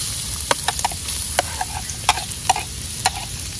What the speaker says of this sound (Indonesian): Tumis bawang putih ni sampai kekuningan